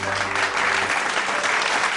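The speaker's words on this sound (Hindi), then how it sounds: "तो तालियां बजाइए" Studio audience applause on a Hindi-Urdu morning talk show, a steady dense clatter of clapping filling the whole stretch without a break.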